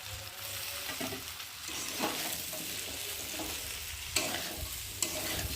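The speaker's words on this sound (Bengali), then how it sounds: "সেদ্ধ করে রাখা যে এঁচোড়টা ভালো করে মশলার সাথে কষিয়ে নেব" Boiled raw jackfruit is stirred and sautéed with spices and fried prawns in a pan. It gives a steady close sizzle, broken by scraping stir strokes and a few sharper clinks, with no voices.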